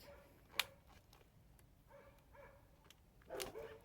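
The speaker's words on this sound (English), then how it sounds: "I have to excuse my neighbor's dog. It barks nonstop all the time." A neighbor's dog barking in a quiet yard, two faint, distant barks separated by a few seconds of low outdoor hush.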